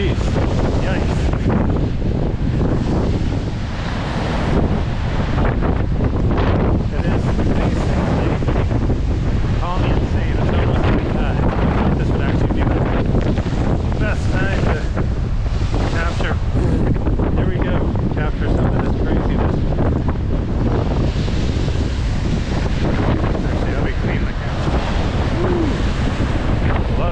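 Strong wind buffets the microphone nonstop while waves crash and surge along the Lynn/Swampscott waterfront on the North Shore, a loud, dense roar with no pauses.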